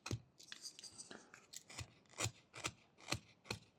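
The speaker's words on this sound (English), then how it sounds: "We can round the edges of the new dents that we created with these very small push cuts" A knife makes small push cuts while whittling a wooden kitten figure, producing quiet, close, crisp scraping snicks in an uneven rhythm, about eight or nine strokes, with no talk.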